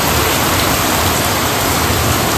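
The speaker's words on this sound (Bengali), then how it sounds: "দেখো বন্ধুরা, এখন কত বৃষ্টি" Heavy morning rain pouring down outdoors, a dense, loud, unbroken roar of falling water filling the whole moment with no voices.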